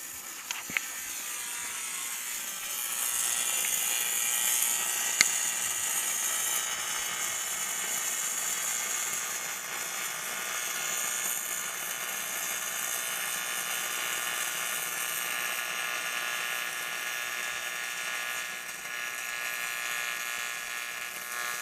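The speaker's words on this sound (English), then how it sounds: "This would be his first time welding with 6011 on AC." Stick welding with a 6011 rod on an AC welder set to 85 amps, a steady crackling, sizzling arc hiss held close and even for about twenty seconds, with a few sharp pops near the start.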